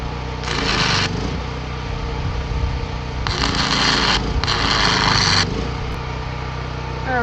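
Petrol generator powering a welder starts and runs at a steady, loud drone throughout, with brief bursts of hissy noise layered over the engine hum.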